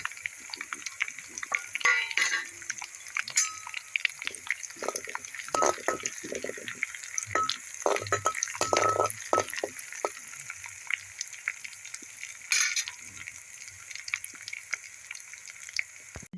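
Whole spices and garlic leaves crackle and sizzle in hot oil: cumin, fennel, nigella, mustard seeds and asafoetida spit with irregular pops over a steady frying hiss, close and moderately loud.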